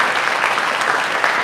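A dense, steady wash of audience applause fills a community Asian American and Pacific Islander heritage month celebration honouring guests, loud and continuous with no talk over it.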